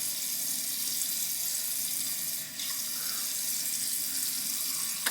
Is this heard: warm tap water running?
yes